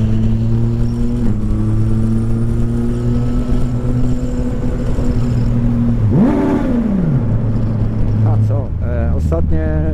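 A motorcycle rides through busy city traffic in the capital, its engine a loud, steady drone with a gear shift and a sharp rev that rises and falls, wind noise running underneath.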